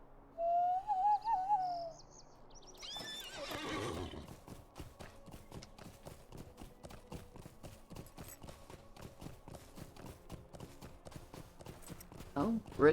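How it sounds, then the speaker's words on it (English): A horse in the fantasy game LOTRO whinnies, then its hooves clip-clop in a steady even rhythm while it is ridden, close by, with a faint owl hoot at the start. "Alright, we're going to get on our horse."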